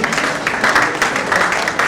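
An audience at a town planners' program applauds a speaker, with dense, continuous handclapping filling the whole stretch at an even, fairly loud level.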